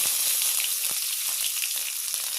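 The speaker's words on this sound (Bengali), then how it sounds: "সর্ষের তেল দিয়ে দিয়েছি, এবার ফোড়ন দিয়ে দেবো" Whole spices, dried and green chillies and garlic sizzle in hot mustard oil, a steady loud crackling hiss broken by a few sharp pops, close up with no talk.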